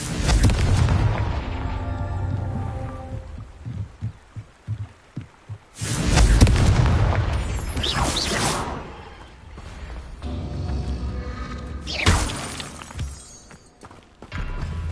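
Confringo spell blasts in the Hogwarts Legacy video game, several loud booming bursts with crackling, shattering debris, separated by quieter stretches of ambient rumble and a few soft thuds.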